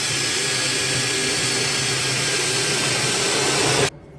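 A power drill bores a hole for a hood pin, a steady loud whirring grind that runs continuously for several seconds before cutting off abruptly.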